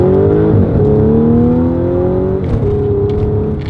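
A 2013 Audi S5 accelerates onto the highway, its engine note climbing steadily and loudly from inside the car, with two brief dips as it shifts gears before rising again.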